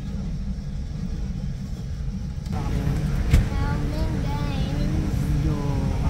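Steady low droning rumble inside an airliner cabin, continuous and fairly loud, with a brief thump partway through and a person speaking over it.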